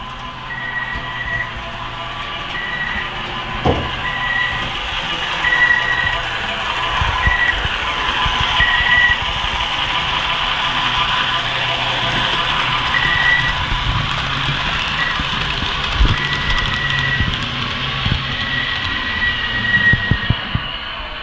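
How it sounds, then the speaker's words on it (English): A model subway train runs on a home layout, a steady low rumble and whir with faint intermittent beeping tones, continuing for the whole stretch without speech. "he's going to give us a little demonstration on this subway train that"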